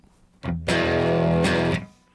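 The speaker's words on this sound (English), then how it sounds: "you're going to hear that it's got a distorted sound" A sustained, heavily distorted electric guitar chord buzzes through an amp, rising sharply, holding for over a second, then cutting off.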